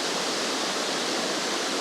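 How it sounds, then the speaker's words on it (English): Small waterfall in a mossy outdoor spot, a loud unbroken rushing hiss of falling water close by, steady throughout with no talk. "There's a little waterfall actually as well, and you can really hear that."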